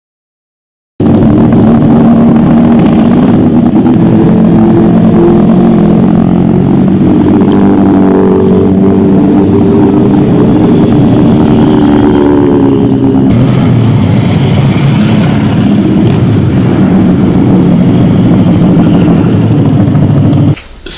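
A motorcycle engine runs steadily and loudly up close for about twenty seconds, a dense low rumble with a slight shift in tone partway through and no talking.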